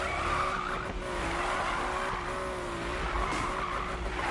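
Continuous tire squeal from a car drifting in Need for Speed 2013, a steady wavering screech over loud engine roar for the full length, with no talk.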